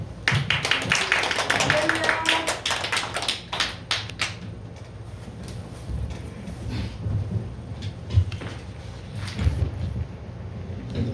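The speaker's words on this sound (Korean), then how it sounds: "우리 한광 목사님 나오실 때 크게 박수로 환영하시겠습니다" Church congregation clapping to welcome a pastor, a dense burst of applause that thins out after a few seconds into scattered claps and room noise, with a voice briefly heard.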